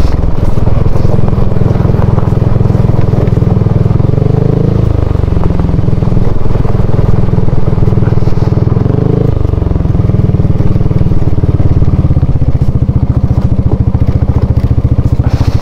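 A motorcycle engine roars loudly and close up, shifting pitch as it rides, with rumble and wind buffeting throughout.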